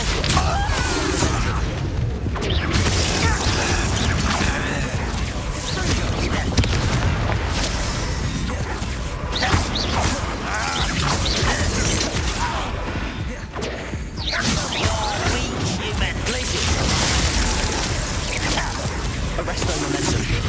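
Descendo spell slamming objects down in the wizarding game Hogwarts Legacy, a dense stream of heavy crashes, thuds and whooshes amid ongoing combat effects, loud throughout, with a voice speaking over it.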